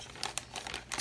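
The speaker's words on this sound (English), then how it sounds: "I'm just going to use a plastic bag." A plastic bag being wrapped over freshly mixed henna, giving quick, soft crinkling bursts at close range with short pauses between them.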